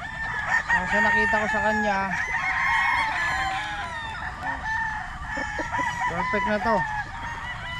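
A national banded stag, a gamefowl rooster, crows repeatedly up close alongside other nearby fowl calls, while someone talks over the birds.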